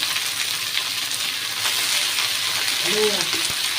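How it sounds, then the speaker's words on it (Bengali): Onion, garlic and dried chilli with red amaranth greens frying in hot oil in a pan give a loud, steady, close sizzle that runs throughout, with a brief stir or clink near the end. "আমার পেঁয়াজ, রসুন, শুকনো লঙ্কা আমার খুব ভালো করে ভাজা হয়ে গেছে। এবার আমি কিন্তু শাকগুলো দিয়ে দেব।"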